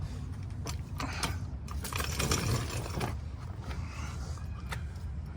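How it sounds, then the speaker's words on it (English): Pulleys being removed from a Lexus ES350 engine during a water pump job: close metallic ratcheting clicks, clinks and scraping in irregular bursts over a low background rumble, no speech. "let's start getting all these pulleys off"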